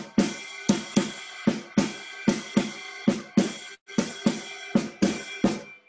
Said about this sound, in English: It's the shuffle. It's the shuffle pattern.